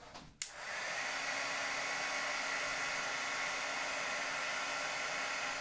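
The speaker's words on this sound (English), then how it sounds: "my heat tool is going to come in" After a click, a heat embossing tool roars on and holds a constant, loud airy hiss while melting embossing powder on cardstock, steady and uninterrupted with no talking.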